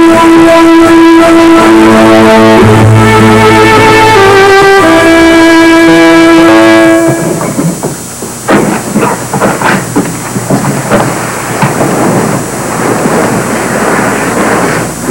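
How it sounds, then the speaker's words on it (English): Wind rushes loudly in gusty, rising and falling waves over the second half of the scene, following a stretch of music. "Here comes the wind."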